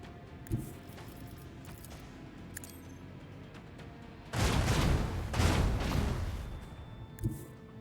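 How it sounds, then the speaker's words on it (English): Macro cannons fire from a starship in Warhammer 40,000: Rogue Trader, a heavy rumbling barrage of booms swelling loud for a few seconds in the middle, framed by quieter ambient hum and a couple of sharp thuds. "I want to hear macro cannons roar!"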